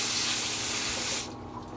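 Light water spray from a hose nozzle over a barrel garden planter, a steady close hiss that cuts off abruptly near the end, leaving a faint trickle.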